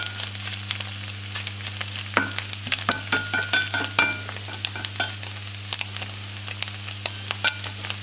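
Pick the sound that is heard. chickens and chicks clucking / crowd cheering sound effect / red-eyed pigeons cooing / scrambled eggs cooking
scrambled eggs cooking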